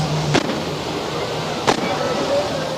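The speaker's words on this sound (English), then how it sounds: "And there were fireworks." Fireworks going off at a celebration in Southall in 1984, heard as two sharp, separate bangs over a steady wash of outdoor background noise.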